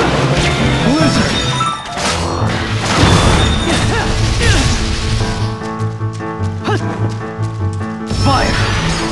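A Blizzard spell is cast in a Dissidia local versus match, Firion against Firion, amid loud dense game effects with crashing, booming impacts, while a voice shouts excitedly over the action.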